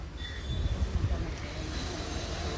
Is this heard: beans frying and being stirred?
no